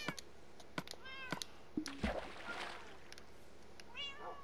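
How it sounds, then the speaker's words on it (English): Several cats meowing in the video game Minecraft, a string of short high mews spread across the moment with one louder low thump in the middle, fairly close and clear over a quiet background. "I just need to turn the cat sounds"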